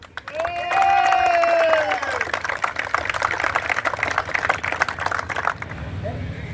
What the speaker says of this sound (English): Hey, can we get a hand for Scoutcrafter?